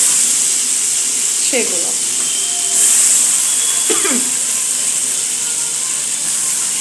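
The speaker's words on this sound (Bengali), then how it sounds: "আমি তেলের মধ্যে দিয়ে দিলাম ওই যে কুচনো পেঁয়াজ, টমেটো" Chopped onion and tomato fry in hot oil, giving a steady, moderately loud hiss throughout, with a few brief words spoken over it.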